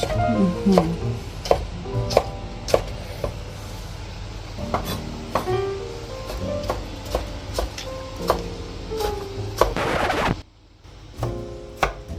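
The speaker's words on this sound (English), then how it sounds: "So we also finely chop the tomatoes." Tomatoes being finely chopped with a knife on a board for tabbouleh: irregular sharp chops, loud and close, with a brief scraping burst near the end and no speech.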